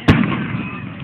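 Fourth of July fireworks in Santa Maria, California: a single sharp, booming burst nearby, followed by a long rumbling echo that fades slowly.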